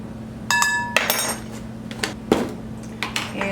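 A metal measuring spoon clinks sharply against a bowl while a teaspoon of baking soda goes into cookie batter. There are several bright, ringing taps, then lighter scattered clinks, close up with no talking.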